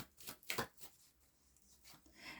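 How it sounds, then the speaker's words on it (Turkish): A tarot card is drawn from a deck during a weekly reading, heard as a few quick, soft papery flicks and slides close by, with quiet room tone between them. "Bir kart daha çekeceğim."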